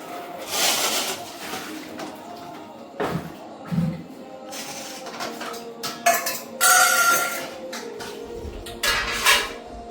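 Dishes, pots and pans being washed late at night in a home, with repeated metallic clinks, scrapes and clatters of utensils spread through the stretch, close and fairly loud, alongside a few brief thuds and no talking.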